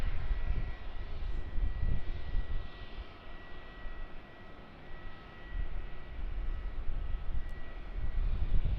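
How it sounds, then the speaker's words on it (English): Airbus A321-200 freighter landing on runway 16 at Melbourne Tullamarine airport, heard as a loud, continuous rumbling engine roar that dips slightly midway and then builds again, with no voices. "Putting on a lovely landing for us on runway 16 here in Melbourne Tullamarine."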